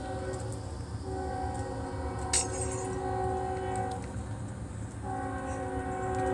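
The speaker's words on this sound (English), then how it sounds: "I'm hearing a train in the background." Steady low rumble and hum of a train, with sustained horn-like tones starting and stopping, plus a brief sharp clank partway through.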